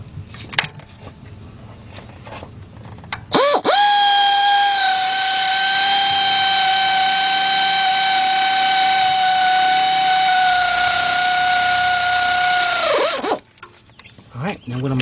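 A pneumatic air tool whines steadily for about ten seconds on an A/C compressor bolt of a 2006 Chevy Silverado C1500, a high sustained tone that dips as it spools down, loud and close, with no talk.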